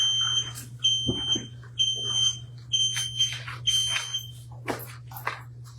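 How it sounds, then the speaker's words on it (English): Repeated short electronic beeps of a buzzer sound in quick bursts over a steady low hum during a public commission meeting, with faint voices scattered underneath. "I know the buzzer's working."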